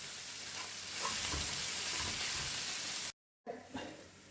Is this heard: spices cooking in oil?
yes